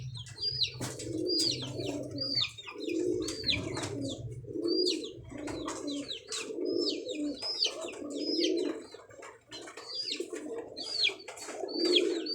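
Ferozpuri pigeons at a pigeon keeper's shop coo repeatedly, their soft, rolling calls recurring close by in an uneven rhythm, with thin chirps from other birds over them and faint low rumbling underneath.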